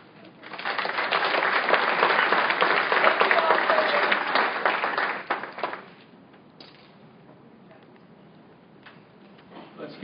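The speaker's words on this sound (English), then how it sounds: "Let's give these young people one more round of applause." Board meeting audience applauding young people at an Oklahoma City school board session: a burst of dense clapping for about five seconds that fades to a quiet room.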